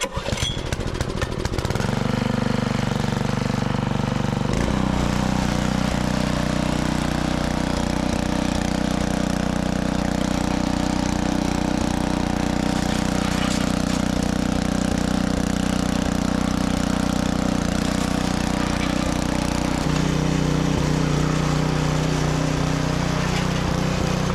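A rototiller engine being fixed up outdoors cranks, catches and settles into a loud, steady running drone that holds throughout, with a slight shift in pitch near the end.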